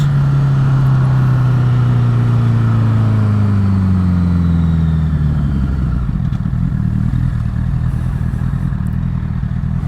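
A motorcycle engine drones loudly and steadily at close range while riding around roundabouts to scrub in new tyres, its pitch sliding down as it eases off, with constant wind and road rumble.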